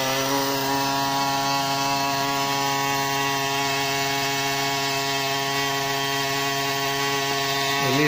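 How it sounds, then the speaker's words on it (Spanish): Small battery-powered aquarium air pump running with a loud, steady buzzing drone, constant and close with no voices. "ese es el único defecto que tienen las bombas de aire a pilas"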